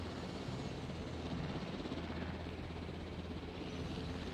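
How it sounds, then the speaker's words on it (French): A helicopter in the dinosaur park game Jurassic World Evolution flies with a steady, dense rotor and engine drone that holds at a constant loud level throughout, with no speech over it. "Hélicoptère mine de rien on dirait pas mais c'est pas arcade hein."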